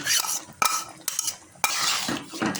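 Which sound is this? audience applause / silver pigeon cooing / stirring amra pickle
stirring amra pickle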